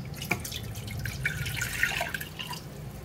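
A steady splashing trickle as 300 ml of cold water is poured for agar jelly, with bright droplet plinks over a constant low background, close and continuous without talk.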